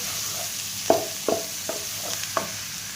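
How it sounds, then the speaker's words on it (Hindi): A teaspoon of garlic paste sautés in a kadhai, with a soft sizzle underneath and several distinct stirring scrapes of a spoon against the pan at a steady, unhurried pace. "और इसमें डालेंगे लहसुन का पेस्ट 1 चम्मच, हल्का से इसे सौते करेंगे"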